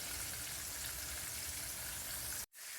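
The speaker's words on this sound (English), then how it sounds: "we're not deep frying it, we're just shallow frying it in a pan." Chicken shallow frying in a pan, a steady bright sizzle with constant crackle that cuts out abruptly near the end and then resumes, heard close with no talking.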